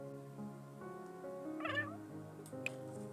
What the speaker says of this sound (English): Very pitiful little meow.